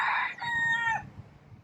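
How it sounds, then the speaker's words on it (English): A rooster in Hawaii crows once, a loud, close, strained call that breaks into a tonal middle and fades out, with faint outdoor background noise after. "I like this rooster."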